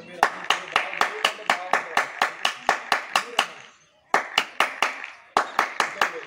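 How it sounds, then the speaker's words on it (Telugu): A person claps hands repeatedly at Ramappa temple, sharp evenly spaced claps ringing with short echoes, in two runs separated by a brief pause. "మనం చప్పట్లు కొడితే ఇక్కడ రీసౌండ్ వస్తాడా"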